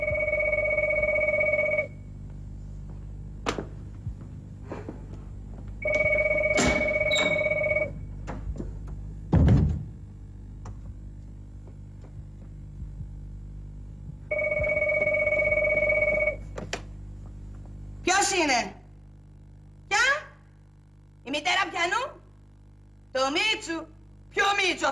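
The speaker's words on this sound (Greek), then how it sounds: "Τηλέφωνο." A classic telephone rings in a Greek drama, in repeated long two-tone bursts separated by pauses, with thumps in between, followed by short bursts of people talking.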